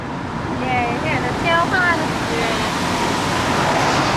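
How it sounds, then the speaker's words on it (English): A steady broadband rush of falling water from Dunn's River Falls in Jamaica, heard from a road crossing over it, fills the clip, with a voice faintly audible in the background early on. "we're crossing over the waterfall now on the road"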